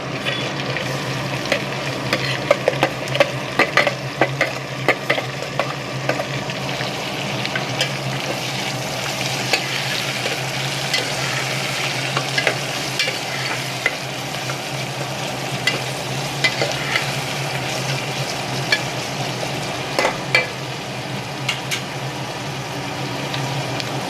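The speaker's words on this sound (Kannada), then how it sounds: "ಈಗ ಈರುಳ್ಳಿ ರೋಸ್ಟ್ ಆಗಿದೆ" Onions fry in a pan for methi bath, a steady close sizzle running throughout, punctuated by frequent spatula scrapes and taps against the pan.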